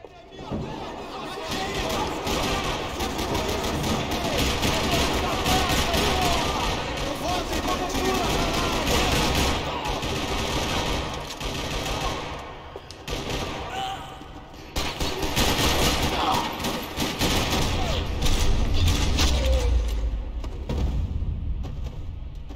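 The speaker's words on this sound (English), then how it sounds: "Another parking lot rattling with gunfire." Bursts of rapid gunfire rattle on and off in a parking lot in Max Payne 3, over a continuous din of game action, with brief lulls between volleys.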